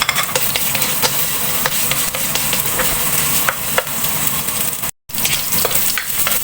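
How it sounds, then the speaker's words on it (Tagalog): Ginger sizzles in a hot pan as it is sautéed for laing, a Filipino dish, with a steady close-up frying hiss and occasional scraping stirs and a brief gap of silence. "Igisa natin ang luya."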